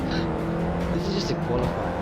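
Racing cars in Forza Motorsport 6, led by a Toyota GT86, hold a steady engine drone with faint tire hiss while someone talks over the game sound.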